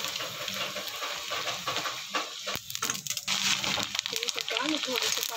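Sabudana papad crackling and sizzling in hot oil, a dense broadband fizz with scattered pops and scraping, moderately loud and close throughout, with faint voice-like tones near the end.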